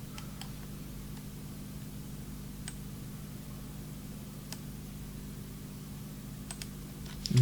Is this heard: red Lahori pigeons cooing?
no